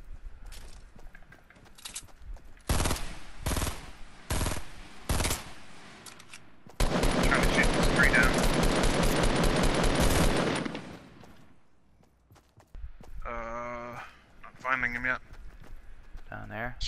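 Gunfire in a building-and-shooting video game: a handful of loud separate shots, then a sustained rapid burst lasting about four seconds, followed by quieter game sounds and talking players.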